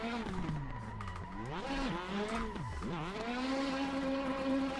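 A drift car in a racing game howls through rising and falling revs, its engine pitch sweeping up and down while the tires squeal steadily underneath, loud and continuous throughout.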